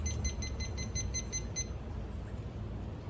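A timer being set before a meditation session gives a quick run of about eight evenly spaced, high electronic beeps in the first second and a half, then quiet background hiss.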